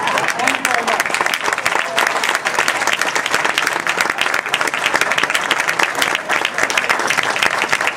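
Crowd applause for a governor at a political gathering, steady, dense clapping that fills the whole span at close range, with voices mixed in.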